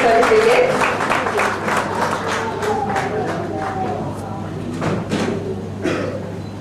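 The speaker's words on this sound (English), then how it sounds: "Let's all give them a round of applause" A crowd gives participants at a Hair for Hope Gujarat event a round of applause, a steady wash of clapping that lasts throughout while voices talk over it.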